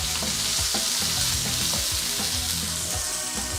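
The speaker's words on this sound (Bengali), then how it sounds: "তেলটা গরম হওয়ার পর এটাতে প্রথমে অনিয়নটা দিয়ে দেবো।" Chopped onion frying in hot oil for Bengali chana bhuna, a loud, dense, continuous sizzle with crackling pops, close up and with no talking.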